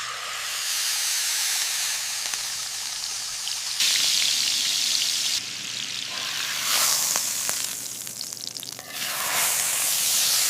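Butter sizzling in a hot pan for steak, a loud continuous hiss and crackle that swells and shifts in bursts, with no talking.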